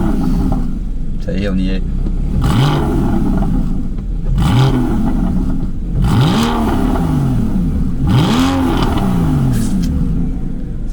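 A Porsche fitted with a SCART exhaust and PSE, valves open, blips its engine in several sharp rising and falling revs, loud and close, with someone talking briefly in between.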